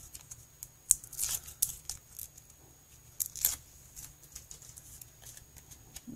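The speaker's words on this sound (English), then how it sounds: "We'll put some foam on here and peel the foam backing off." Backing being peeled from adhesive foam pieces for a handmade card: faint, brief crinkling and tearing bits with small taps, quiet and close.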